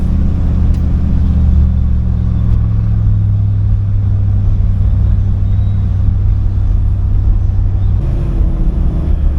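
A 1991 Chevy G20 van with a swapped LS engine and 4L80E transmission cruises at steady speed, its engine and road noise forming a continuous loud low drone, with a slight shift in tone near the end.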